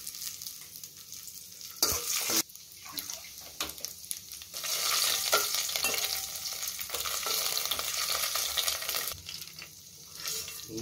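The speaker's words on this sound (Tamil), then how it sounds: "நெய் ஹீட் ஆனவனையும் முந்திரி பருப்பு போட்டுக்கலாம். முந்திரி பருப்பு போட்டு திராட்சை போட்டுக்கலாம்." Cashews and raisins fry in hot ghee for a moong dal payasam, giving a loud continuous sizzle and crackle with occasional stirring scrapes, close by and with no talk.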